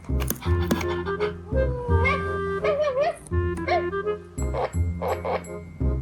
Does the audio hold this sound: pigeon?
no